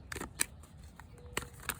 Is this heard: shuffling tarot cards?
yes